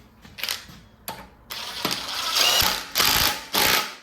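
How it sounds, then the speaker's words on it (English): Ratchet wrench tightening a head bolt on a Kia/Hyundai 3.3/3.5/3.8 engine with a thread failure, sounding as several close bursts of rapid clicking separated by short pauses, with no talk. "then you can go ahead and tighten this bolt"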